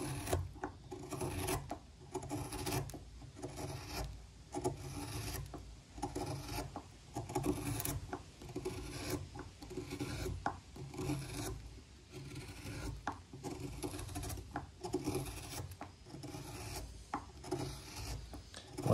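Steady rasping, scraping strokes of a long bent gouge cutting into wood, repeating in a continuous rhythm close up with brief pauses between passes, no talking.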